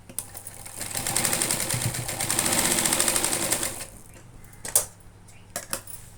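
A sewing machine stitching a cloth bag runs in a steady, rapid mechanical whir for about three seconds, then stops, followed by a few sharp clicks and handling knocks up close.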